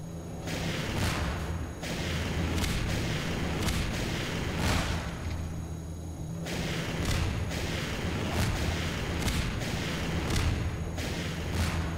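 Rockets being fired in the video game Half-Life 2, with repeated booming launches and blasts at uneven intervals over a continuous loud rumbling background, punctuated by sharp bursts of impact noise.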